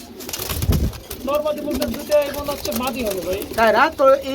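Huma pigeons, black and white birds at a market sale, coo in repeated rolling calls close by, several bursts overlapping in a busy setting with background chatter.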